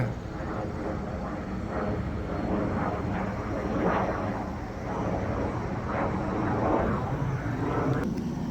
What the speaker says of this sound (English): Big jet.